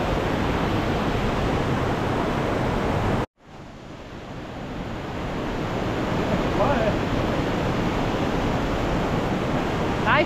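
Waterfalls in Val d'Oten roar as dense, steady broadband white noise, loud and continuous, with one abrupt brief dropout early before the rushing water swells back in.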